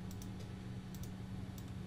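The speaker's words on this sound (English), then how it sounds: "use the push-pull tool to pull it out 3 feet by typing 3 feet and pressing enter" Light tapping on a computer keyboard, a few quick key clicks in short bursts over a steady low hum.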